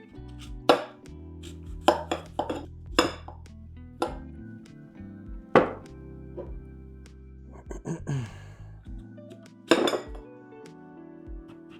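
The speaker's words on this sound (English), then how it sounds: "Just gonna cut inside my bowl because that's what I have in front of me." Knife cutting the core out of apples inside a bowl, with a series of sharp clinks and taps of the blade against the bowl spaced irregularly over a steady low background hum.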